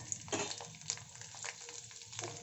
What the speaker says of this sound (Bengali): তো এখন আমি এখানে রসুন আর কাঁচা লঙ্কাটাকেও দিয়ে দিলাম।